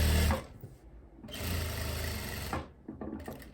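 A sewing machine stitches over the overlock seam of a long kaftan, running in a short burst, pausing, then a longer steady run before trailing into quieter handling sounds.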